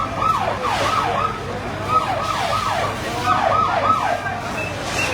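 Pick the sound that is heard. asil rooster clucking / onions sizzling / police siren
police siren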